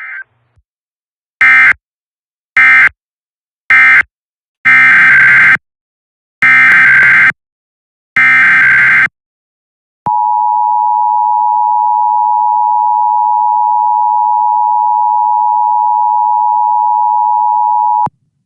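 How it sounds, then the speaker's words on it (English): Emergency alert system weekly test on a weather broadcast: a series of loud, harsh electronic data bursts in quick succession, then a long, steady, piercing alarm tone that holds for about eight seconds. "This is a required weekly test of the emergency alert system"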